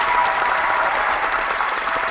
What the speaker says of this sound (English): So I'm going to do a little round of applause.